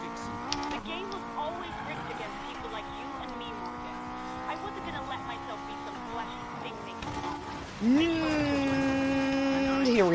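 A car engine in the racing video game NFS Payback drones steadily with shifting pitch, then rises sharply and stays louder near the end, with a person talking over it.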